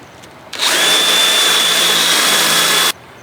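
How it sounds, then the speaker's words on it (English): A power drill bores holes into a boat transom, a loud, steady high whine that starts abruptly, runs for about two and a half seconds and cuts off. "All right, let's just drill this shit out."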